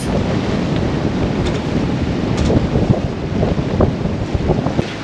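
Strong, steady wind roars across the microphone aboard a sailing boat on the Aegean, a constant loud rumble with gusty buffeting and no voices.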